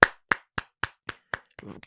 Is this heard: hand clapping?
yes